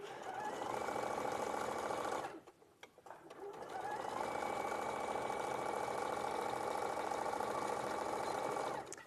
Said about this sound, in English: So I use a 1 centimetre seam allowance and just sew the pin tucks in.